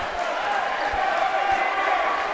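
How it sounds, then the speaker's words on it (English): Loud, steady roar of a packed crowd at a men's college basketball game, CNCC against CSI, continuous noisy cheering and chatter filling the gym with no pauses. "Crowd is loud."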